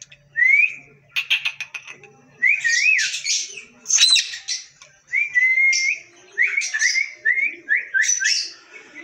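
A pet bird calls back and forth with a person's whistling, rising whistled notes and chirpy squawks in repeated bursts, close and loud with short pauses between phrases.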